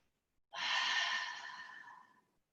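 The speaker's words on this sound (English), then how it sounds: "Each exhale out through your mouth." A single long exhale out through the mouth during a yoga breathing exercise, a soft breathy sigh starting abruptly and fading gradually over about two seconds, close and alone.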